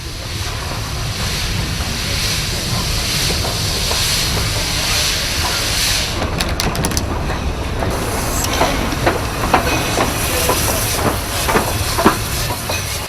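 Hudswell Clarke steam locomotive Elizabeth, works number 1888 built in 1958, working at an industrial site in October 1972: a steady close rumble with hissing steam, and sharper chuffs and clanks coming through in the second half, with no talk.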